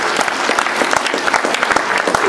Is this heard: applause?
yes